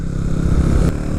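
Honda Grom motorcycle fitted with a utility sidecar, held at open throttle in fourth gear with the clutch slipping. Its engine gives a loud, steady, close droning rev with no break.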